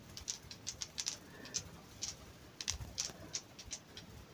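Swiftlets (balinsasayaw) flutter inside a cave, giving a dozen or so sharp, high chirping clicks in an uneven rhythm over a faint hiss of still cave air, with no voices.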